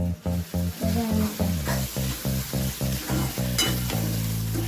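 Spiced masala being stirred in a frying pan for a village-style clam recipe: steady close sizzling under a regular scraping rhythm of the spoon against the pan, loud and continuous, no talking.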